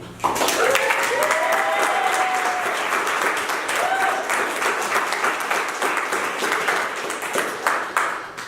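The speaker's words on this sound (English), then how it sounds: "Please give a round of applause to Brian." Audience applause for a storyteller at a culture venue's grand opening, a loud, dense crowd clapping that holds steady for several seconds, with a voice briefly speaking over it.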